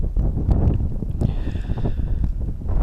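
Strong wind buffets a microphone on the hilltop of Crookstone Knoll on Kinder Scout in the Peak District, a loud, continuous low rumble with gusty swells and no voices.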